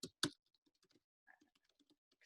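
Quick clattering keystrokes on a keyboard, with two loud hard clicks at the start followed by lighter, scattered tapping in a quiet room.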